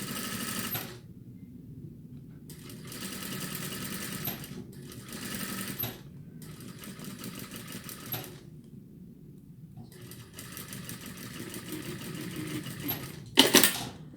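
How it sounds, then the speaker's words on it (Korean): Sewing machine stitching piping onto fabric, several separate runs of rapid mechanical whirring broken by short pauses, close but moderate in level, ending with a sharp clack. "이렇게 본판으로 가서 봉제할 때는 바짝 얘를 이렇게 눌러서 좀 봉제를 해주셔야 됩니다."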